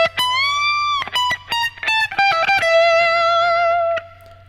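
A solo phrase on overdriven electric guitar: quick picked notes, a wide bend and release, then one sustained note fading out, played alone and close.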